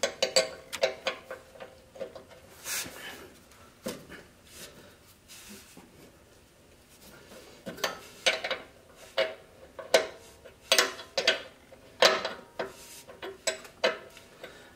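Offset wrench working on the brake eccentrics of an early Ford drum brake, irregular metallic clicks and clanks, quiet and close, in scattered clusters across the clip.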